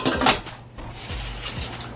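Freshly cooked soft-boiled eggs tumble into a basket with a few quick hard clatters up front, followed by softer rattling and knocking as they settle, close and fairly loud with no voices.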